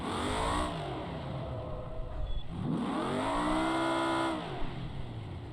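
A car engine in the BeamNG driving simulation revs up and down in two long rising and falling sweeps, loud and close, the synthetic engine tone climbing through the gears with no talk over it.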